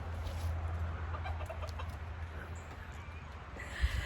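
Chickens cluck faintly inside a chicken coop, with scattered soft calls over a steady low background hum and no one speaking.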